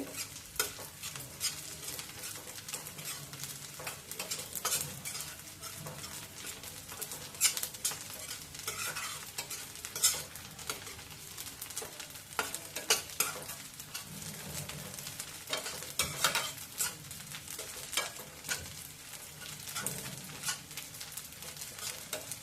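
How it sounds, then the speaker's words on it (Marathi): Wet green wheat ears roasting in a pan for winter sheera, with a steady dry crackling sizzle and frequent stirring scrapes and rustles running throughout, close and moderately loud. "ओल्या असल्यामुळे तो भाजायला जरा वेळ लागते"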